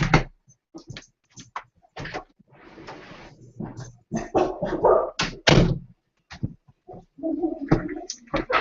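Several dogs being let outside bark and scuffle in a house, a burst of irregular loud barks mixed with thuds and clatter, fairly close.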